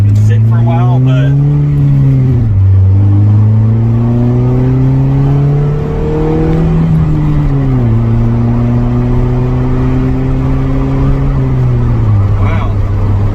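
A Honda CRX Si engine revs up and back down in several moderate, smooth sweeps, loud and close, held below full throttle.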